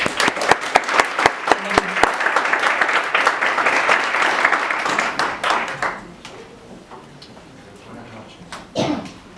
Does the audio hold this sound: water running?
no